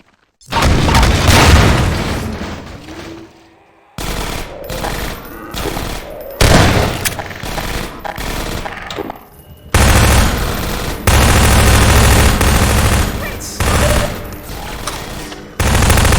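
Gunners open up in the Half-Life 2 video game with dense, loud bursts of gunfire and booming impacts, coming in repeated volleys with brief pauses between them.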